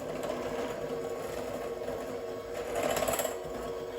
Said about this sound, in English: It takes 2 to 3 minutes, especially with a hand mixer